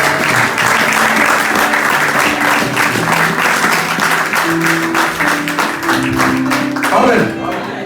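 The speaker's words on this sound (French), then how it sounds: "on acclame encore l'Éternel" A church congregation applauds during a Sunday service, sustained rhythmic clapping filling the room throughout, with voices calling out over it and music notes underneath.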